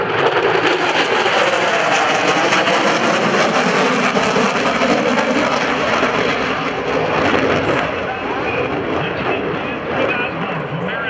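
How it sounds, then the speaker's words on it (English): An F/A-18F Super Hornet makes a proto pass at the 2012 Blue Angels Homecoming Airshow at Naval Air Station Pensacola, a loud, steady broadband jet roar filling the whole stretch and easing slightly near the end. "From the right, the Super Hornet Proto Pass."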